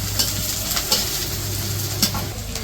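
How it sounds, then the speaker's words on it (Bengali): Spices with onion and green chili frying in a pan as they are stirred: a steady close sizzle broken by several light scraping stirs, with no voices. "মশলা কষিয়ে নিব, এখন যা যা মশলা লাগে সব কিছু দিয়া মশলা কষাইব।"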